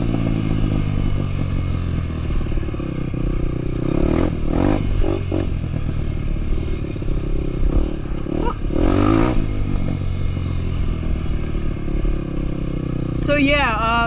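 Honda CRF150F dirt bike engine drones steadily and close while riding, with rattling and clattering over the rough ground and a few swells as the throttle opens.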